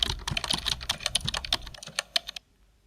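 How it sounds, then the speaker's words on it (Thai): Rapid clattering keystrokes on a computer keyboard, dense and close, continue for a couple of seconds before stopping suddenly into near silence. "คีย์บอร์ด"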